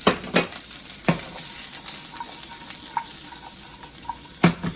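Vegetables with salt, pepper and olive oil sauté in a hot pan, a soft steady sizzle broken by a few sharp clinks and scrapes of stirring, close and alone.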